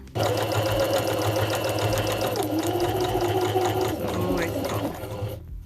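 A sewing machine runs steadily and close up, stitching Christmas scrap fabric in a sewing workshop, with a continuous motor hum and rapid needle ticking before it slows and stops near the end.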